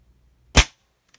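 A Diana Bandit PCP air pistol fires a single sharp, close-up shot, recorded next to the barrel: a brief snappy crack with a short tail, against near silence.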